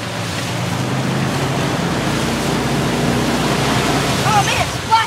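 A vehicle churns through muddy water after rain, giving a steady broad rush of splashing and engine noise throughout, with faint voices and a brief squeak near the end.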